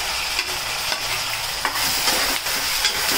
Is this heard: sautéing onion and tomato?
yes